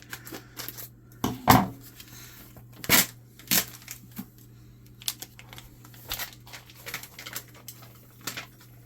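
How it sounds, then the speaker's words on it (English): Ground beef package being opened in a home kitchen, with scattered crinkly plastic crackles and soft tearing bursts, a few sharper rustles, close and fairly quiet. "I am going to go ahead and open up my ground beef"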